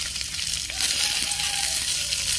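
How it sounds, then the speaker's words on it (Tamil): Onions and curry leaves sautéing in a clay pot for a village-style crab curry, a loud continuous hiss and crackle of hot oil close by with faint stirring scrapes. "இந்த வெங்காயத்தை வந்து நல்லா வதக்குற வரைக்கும் கிளறி விட்டுருவோம்."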